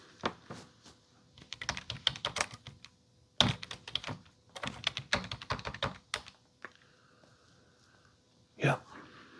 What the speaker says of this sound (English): Let's grab this wireless keyboard here that's hooked up to the monitor.